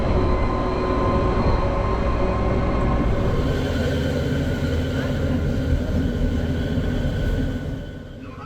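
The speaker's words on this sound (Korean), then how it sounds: "빨간색과 노란색으로 도색된 65번 산악열차를 타고 더 높은 고도로" A red and yellow number 65 mountain train climbs through the Swiss Alps, its steady loud rumble and rolling wheel noise filling the whole stretch before easing slightly at the end.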